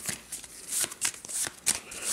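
Citadelles game cards being shuffled, a run of quick papery riffles and flutters repeating several times in bursts, close and fairly quiet with no talking.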